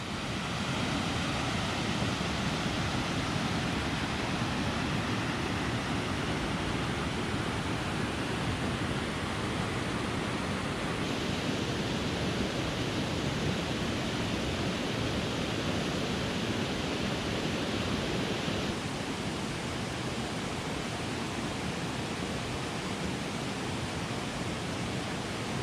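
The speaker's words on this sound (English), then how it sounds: "these mountain streams in the Wilson Creek area are as beautiful as it gets" A mountain stream rushes over the rocks of Hunt Fish Falls on Wilson Creek in Pisgah National Forest, North Carolina, a steady close broadband roar of flowing water with no voices.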